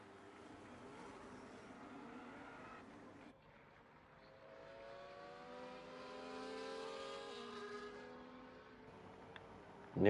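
Race cars in the iRacing sim getting underway for a formation lap at the Canada round of an esports series, a steady engine drone with rising revs from several cars as the pack pulls away.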